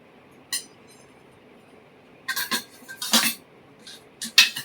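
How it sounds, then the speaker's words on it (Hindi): Dishes and utensils clink while being washed by hand, scattered sharp metallic taps and clatters coming in short bursts over a quiet background. "अभी थोड़े बर्तन साफ कर लूं।"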